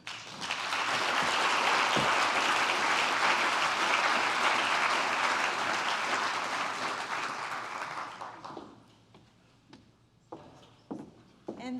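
Loud, sustained applause from an indoor audience welcoming a university president at a family weekend event, filling the room for about eight seconds before fading into scattered claps and quiet room noise.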